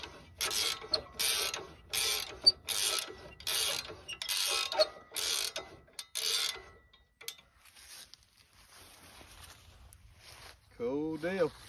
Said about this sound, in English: You can use a ratchet wrench on this side.